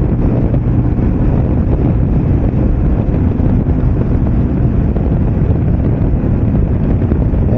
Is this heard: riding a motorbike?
yes